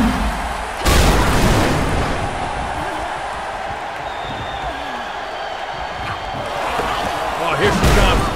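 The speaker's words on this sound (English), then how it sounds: "Missile dropkick!" A missile dropkick lands in the wrestling game WWE 2K Battlegrounds, a heavy booming impact near the start with a second thud at the end, over steady arena crowd noise and commentary-style talk.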